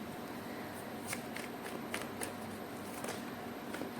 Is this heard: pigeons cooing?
no